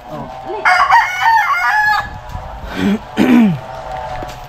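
A rooster crows nearby, a long strained call followed by a second shorter crow, with clucking and outdoor background noise around it.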